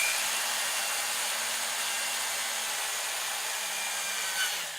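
A power drill bores into a plastic grow bucket with a steady, even whirring hiss from start to finish, fairly loud and close, with no pauses.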